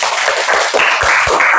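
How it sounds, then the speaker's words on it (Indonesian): Participants at a school counselling training session give a short burst of clapping, a steady patter of hands that lasts under two seconds. "kita tepuk tangan untuk diri kita masing-masing"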